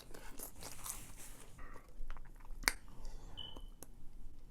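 Extra hot Cheetos being bitten and chewed during a spicy food mukbang, with close crunchy bites and soft squishy chewing and one sharp crackle partway through, without talk.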